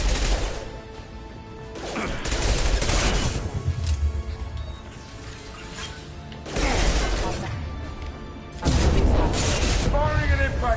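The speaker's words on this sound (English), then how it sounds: "Firing an impact shot." Impact shot gunfire from the Mass Effect 2 Legendary Edition game, booming blasts and crashes heard loud amid dense game action, with bursts around the start, middle and near the end and talk mixed in.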